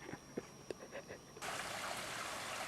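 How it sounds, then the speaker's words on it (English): Small waterfalls spill into a creek with a solid rock bottom, a steady close rush of flowing water that takes over after a few faint knocks and scuffs at the start. "Got little waterfalls behind us, and the creek from there up is solid rock on the bottom."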